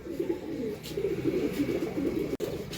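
Female racing pigeon cooing in soft, low, continuous rolling murmurs, close and quiet, with a brief click near the end.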